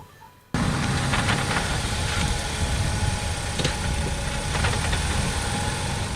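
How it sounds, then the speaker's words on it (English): A 2016 Ford Focus with a six-speed dual-clutch automatic transmission that sounds unhealthy runs steadily after an abrupt start, a dense close droning rumble with faint periodic knocking and vibration, no talking. "you'll be able to determine yourself if that sounds like a healthy transmission"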